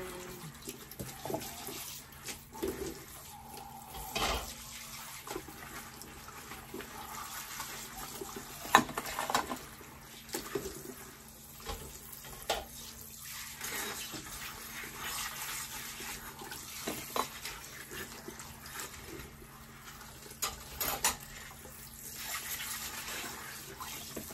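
Hot water running steadily from a tap while dishes are washed at a sink, a continuous faint gushing with occasional clinks and splashes close by.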